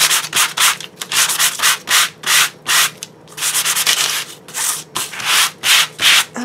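Hand sanding on a sheet of waxed paper, a rhythmic series of short, loud scratchy strokes in bursts with brief pauses, close to the mic, no talking.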